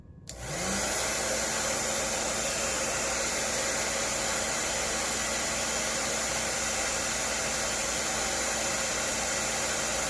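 Air blower for a wind tunnel test of a McLaren 12C GT3 model wing switches on abruptly, then roars as a loud, steady, broadband rush of air that holds constant with a faint tonal hum underneath.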